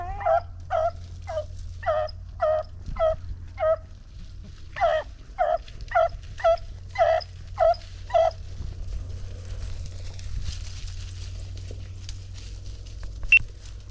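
A beagle yelps and bays in short, regular bursts while rabbit hunting, about a dozen high cries in two runs, fairly close, with a low steady hum underneath.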